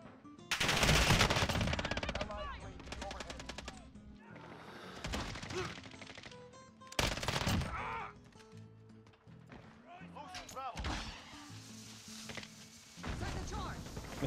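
LMG machine gun fire in Modern Warfare during an online match, with loud rapid bursts that come and go amid other game effects, under a speaking voice.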